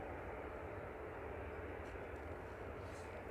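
A Ryanair airliner rolls out along the runway after touching down at Manchester Airport, a steady, fairly distant broadband engine roar that holds evenly throughout with no talk over it.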